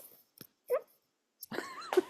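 A person's voice imitates the dog from The Grinch Who Stole Christmas riding on the back of the sled, with short whimpering yips and a longer whiny vocal sound spaced by pauses, fairly close.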